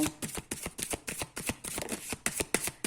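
Tarot cards shuffled in rapid, regular riffles, a dozen or so crisp papery bursts close up, with no talking.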